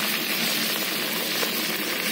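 Meat fries for qovurma lagman, a constant dense hiss of sizzling fat, even and close with no breaks.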